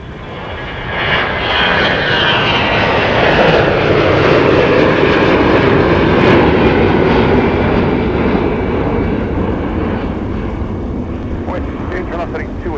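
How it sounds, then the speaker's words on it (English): Delta jet climbing out of snowy MSP airport toward Salt Lake City, its engine roar swelling and peaking mid-way then slowly fading, with people talking over it near the end. "Here's Delta off to Salt Lake City following our flight to Dallas."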